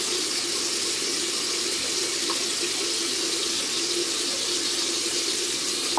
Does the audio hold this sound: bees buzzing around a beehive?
no